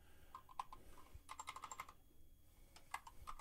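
Fast typing on a computer keyboard while setting up the Qtile window manager on Linux, in quick bursts of crisp clicks separated by a short pause, close and moderately loud.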